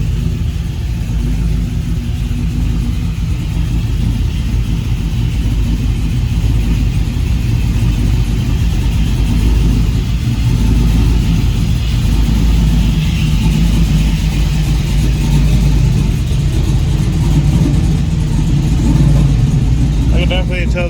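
Loud, constant rumble of an LS-swapped Chevrolet C1500 pickup running through a 3-inch exhaust, engine droning and rising slightly toward the end, close by, with talk over it.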